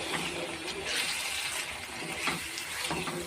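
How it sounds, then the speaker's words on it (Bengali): Water poured into a pan of boiled potatoes with chilli powder, a short steady pouring and splashing sound, close and fairly loud, running for a few seconds. "জল দিলাম"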